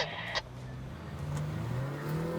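A BMW 330i and an Audi A5 accelerate hard from a drag race start, engines revving and rising in pitch through a gear change, moderately distant and steady without talk.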